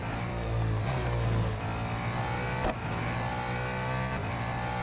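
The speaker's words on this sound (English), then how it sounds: "I'm not a fan of this car's engine. Or at least the noise in this game." Car engine in the racing game Real Racing 3, a steady loud droning hum with harmonic tones that rise and dip slightly as it revs, continuous throughout with no talk.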